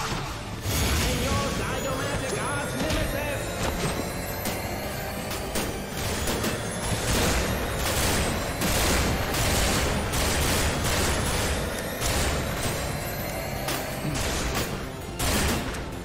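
Overlapping explosions and gunfire from the video game Double Dragon Neon form a loud, dense, chaotic barrage of bursts and crashes. Speech likely runs underneath the clamor.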